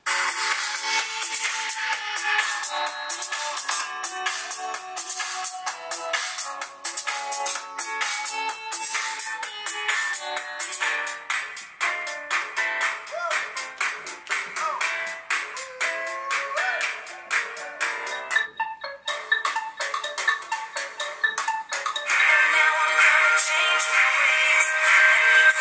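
Music plays steadily and fairly loudly from the speaker of a Samsung Galaxy Note 4 smartphone, a continuous track with a brief dip near the middle, heard alone without talking.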